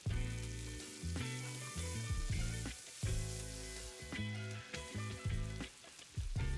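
Arepas frying on a skillet sizzle and spit with uneven bursts of crackle, close but fairly soft, and no one speaks.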